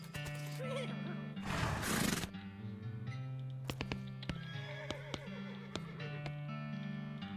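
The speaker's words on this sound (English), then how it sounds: "I want my horse!" A horse in the West of Loathing video game neighs loudly in a shrill burst, then hooves clip-clop in sharp, spaced knocks over a steady musical background.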